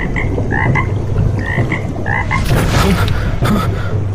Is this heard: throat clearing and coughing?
no